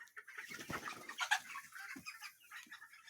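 Broiler chickens on a poultry farm cluck and chatter steadily near the microphone during hot weather, a busy flock sound with no talking over it.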